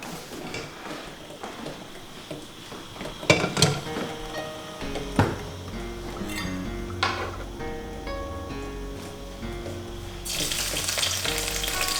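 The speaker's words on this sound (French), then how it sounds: "il faut faire cuire l'ail à feu doux" Garlic fries in oil in a wok over low heat, a gentle crackling sizzle with sharp metallic clinks and scrapes of a utensil midway, growing into a louder hiss near the end.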